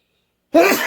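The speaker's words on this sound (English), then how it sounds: "I may sneeze again here in just a second" One sudden loud human sneeze bursts out after half a second of silence, close to the microphone, with a short breathy tail.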